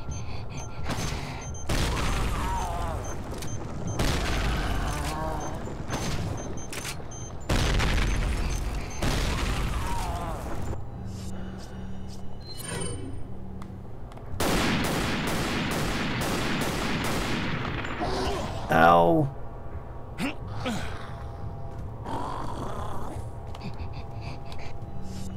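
Semi-automatic rifle fire in the video game Resident Evil 4, a series of sharp, loud shots in bursts mixed with booming game effects, heard under a player's ongoing commentary.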